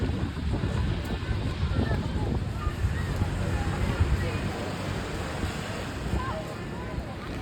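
Sea wind gusting across a beach at Cox's Bazar, a constant rough roar and buffeting on the microphone with surf-like wash underneath, no clear speech.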